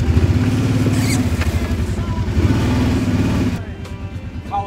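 Kawasaki 750 quad ATV engine off-road in northeast Pennsylvania, a loud steady rumbling motor with rhythmic pulsing that drops off near the end, leaving quieter engine noise.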